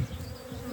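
Honey bees in an Irish apiary, cleaning up combs, make a close, steady buzzing hum through a very brief moment with no voices.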